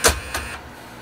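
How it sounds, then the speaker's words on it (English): A new printer updating its software gives two short mechanical whirring bursts, one right at the start and a softer one a moment later, close by and otherwise quiet. "we got a new printer, which you heard just now. It is updating."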